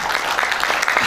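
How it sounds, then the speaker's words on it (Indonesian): Congregation applauding in praise of God at a live-streamed church worship service, a steady wash of many hands clapping throughout, moderately loud and sustained. "Boleh tepuk tangan bagi Tuhan kita."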